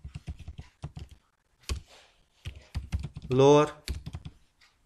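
Rapid clicking keystrokes on a computer keyboard while typing Python code, in short bursts broken by pauses, with someone speaking briefly in Hindi between the bursts.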